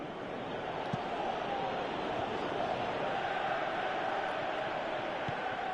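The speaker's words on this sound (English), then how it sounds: "you can hear how the crowd are reacting to this too" A simulated stadium crowd in a PES football video game roars as a steady, dense wall of noise, broad and continuous with no distinct voices or breaks.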